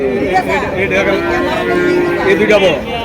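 Bullock cattle low and moo at a busy Eid-season livestock market in Mirshanni, Comilla, with loud, close bellows over continuous crowd chatter and nearby talking.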